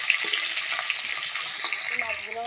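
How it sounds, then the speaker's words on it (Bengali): Fish frying in a pan after being flipped to cook the other side: a steady, close hiss of sizzling oil, with a few light clinks and stirring sounds toward the end. "উল্টে দিয়ে এই পিঠটাও ভালো করে ভেজে নেব।"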